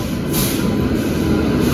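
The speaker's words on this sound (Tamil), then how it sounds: "ஸோ ட்ரெயின் வந்துருச்சு." A train rolls into a station platform on an Indian railway journey, a steady loud rumble of wheels and carriages close by, continuous for the whole short stretch with no talking.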